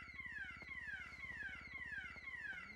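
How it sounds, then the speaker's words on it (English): A car-style alarm in a NoPixel GTA roleplay game, repeating rising and falling electronic wails in a steady cycle, heard alone at moderate volume. "You don't hear that alarm, do you?"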